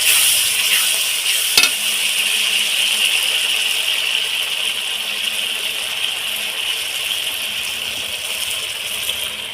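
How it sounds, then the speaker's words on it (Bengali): Masala with sour curd and a little food colour fries in a pan, producing a loud, continuous hiss of sizzling oil with one sharp clink of a spoon early on. "এটাকে এর মধ্যে দিয়ে দেব দিয়ে মশলাটাকে আবার সুন্দর করে কষিয়ে নেব"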